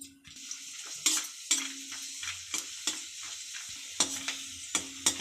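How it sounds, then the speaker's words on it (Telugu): Raisins and almonds frying in melted ghee in a pan, a soft sizzle broken by repeated spoon scrapes and taps against the metal at an uneven rhythm, with no voices. "కిస్మిస్ బాదం వేసుకుందాం. గోల్డెన్ బ్రౌన్ వచ్చే వరకు వేయించుకుందాం."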